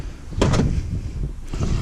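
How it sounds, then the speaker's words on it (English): A door swings shut with a short thud and rattle, followed by a second softer knock, against a steady outdoor background. "I'm just going to close this door over here."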